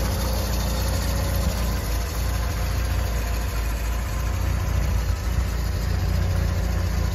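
A 1973 MG B roadster, a restored convertible, idles steadily with a low, even engine burble that holds constant throughout, no one speaking.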